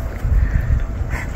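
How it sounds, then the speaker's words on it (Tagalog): Strong wind buffeting a boat at sea at night during snapper fishing, a steady low roar with gusty rumble and faint water noise throughout, no voices. "Masyado malakas na naman hangin."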